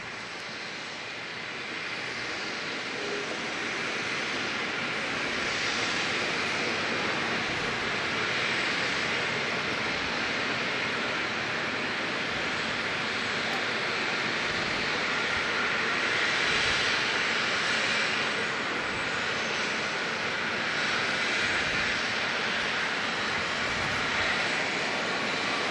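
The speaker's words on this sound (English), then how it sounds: "Jetstar, one of their 320 Neos actually coming in from Christchurch." A Jetstar Airbus A320neo jet landing at Auckland Airport at night, arriving from Christchurch, its engines a loud, steady broadband roar that builds in the first seconds and holds throughout with no talk.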